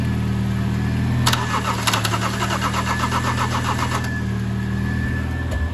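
A BMW E30 diesel engine fitted in a 4x4 buggy with a fuel pump problem is cranked by its starter, a run of rapid, rhythmic churning bursts over a steady low drone, fairly loud and close.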